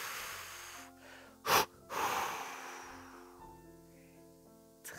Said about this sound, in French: serrer et relâcher en expirant fortement par la bouche pour les expulser loin de vous